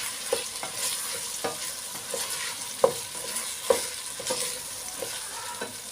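A spoon stirs homemade chicken soup in a pot, no tomato paste added, with repeated scraping knocks and clinks against the metal at an irregular rhythm over a steady soft simmering hiss, close and fairly loud, with no talking.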